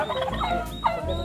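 Two quick rattling gobbles from turkey hens close by, each a short warbling burst, over a low background rumble.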